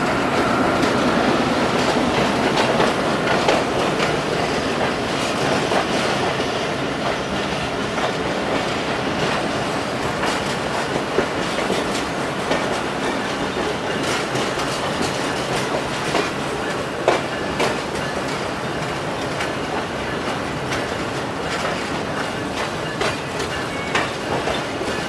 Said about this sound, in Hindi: ये है जी जाफर एक्सप्रेस जो तकरीबन 4 घंटे लेट है